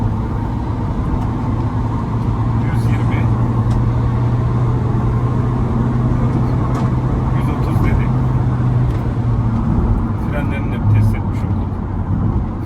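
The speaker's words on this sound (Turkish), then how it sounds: "Araç gerçekten çekişi çok kuvvetli. Kocaman araç olmasına rağmen." An Opel Vivaro van accelerates hard from 0 to 100 and beyond, its engine a loud, steady droning roar with a low, sustained hum. Road and wind noise fill the cabin throughout, and a voice speaks over it.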